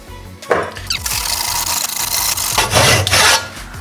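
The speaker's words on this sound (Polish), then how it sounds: "Jeszcze uważać piłę, nie pogiąć za bardzo." A hand saw cuts through wood in rough back-and-forth strokes, close and rasping, with brief pauses between strokes.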